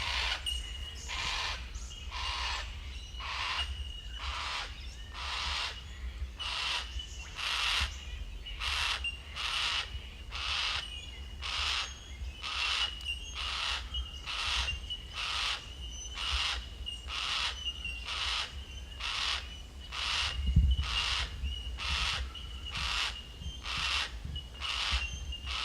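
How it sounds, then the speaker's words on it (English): A yellow-tailed black cockatoo calling on a bushwalk, steady repeated wailing calls in an even rhythm throughout, moderately loud over a low background rumble, with no talking. "There you have it, yellow-tailed black cockatoo."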